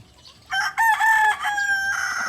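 A Cochin chicken crows on a small farm at evening, one close, loud crow with a harmonic, drawn-out call that rises, holds, then trails off, with no talk over it.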